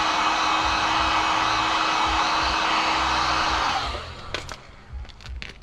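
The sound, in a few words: heat gun heating headlight tint film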